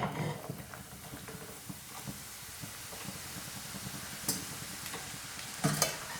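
Masala-coated peanuts drop from a ladle into hot oil over a medium flame, giving a soft, steady sizzle with light scraping and a few sharper clinks from stirring, fairly quiet and with no voices.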